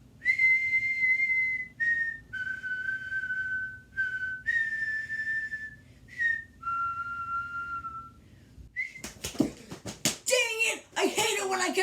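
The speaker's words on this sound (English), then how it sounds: "I hate it when I catch myself whistling that!" A person whistles a short tune up close, a series of clear held and sliding notes with brief gaps, followed by a burst of sharp slaps and noisy clatter.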